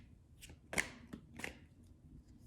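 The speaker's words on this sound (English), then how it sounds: "These are kind of hard to shuffle because there's just not very many of them, and they're thin." Thin tarot cards being shuffled by hand, a small, hard-to-shuffle deck: several quick papery riffles and flicks in close succession, soft and near, with no voices.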